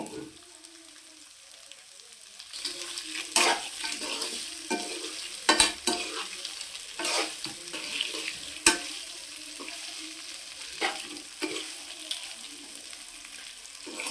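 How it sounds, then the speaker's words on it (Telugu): Okra (bendakaya) frying in a pan with turmeric, stirred steadily: a continuous close sizzle with repeated scraping and clinking strokes of the spoon against the pan, no talking. "బాగా మిక్స్ చేసుకోవాలండి ఇలా కలుపుకుంటూ ఉండాలి"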